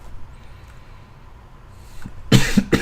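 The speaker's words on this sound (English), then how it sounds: "Sorry for the constant coughing" A few harsh, close coughs burst out near the end after a quiet stretch of low room noise, one loud cough followed by a short second one.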